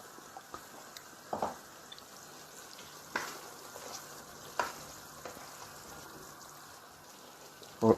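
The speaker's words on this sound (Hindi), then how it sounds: "और इससे पहले मैं इसमें क्रीम मिक्स कर दूंगा।" Cream being stirred into sizzling butter chicken, a steady soft frying hiss with a few scraping stir strokes and clinks spaced through it, close and moderately quiet, no talking.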